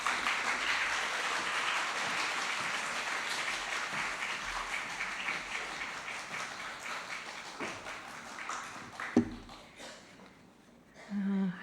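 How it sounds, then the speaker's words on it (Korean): A church congregation applauds a visiting missionary speaker, a broad wash of clapping that fades gradually, with a sharp knock near the end and faint sounds after. "나오실 때 큰 환영의 박수 하겠습니다"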